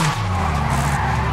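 Tires skid and screech under a steady engine drone as a car accelerates around a roundabout in the racing game Forza Horizon 5, played with a steering wheel; a continuous, fairly loud smear of sound with no breaks.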